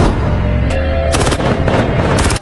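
Gunfire from a rooftop in a Korean film scene: loud, close bursts of shots crack in quick clusters over a low rumble, ending abruptly.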